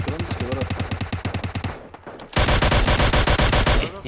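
Gunfire in the PUBG Mobile battle royale game on the Miramar map, a rapid run of sharp automatic shots, a brief pause, then a louder, denser burst of close fire.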